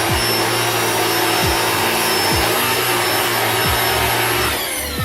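A Black+Decker 2-in-1 cordless vacuum cleaner whirs steadily at close range, with a constant high-pitched motor whine and faint periodic thumps as it sweeps.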